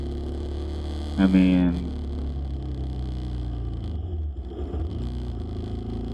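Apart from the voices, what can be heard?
bus engine running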